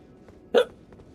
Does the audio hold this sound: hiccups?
yes